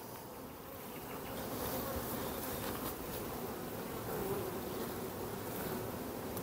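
A honeybee swarm buzzes as the bees prepare swarm cells for new queens, a dense and steady hum of many wings that rises slightly and then holds.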